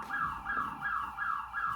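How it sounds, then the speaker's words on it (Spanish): A car alarm goes off faintly in the distance, heard from inside a church during a service, its tone rising and falling in a steady repeating whoop about three times a second. "si alguien por ahí tiene su auto que se haya activado la alarma"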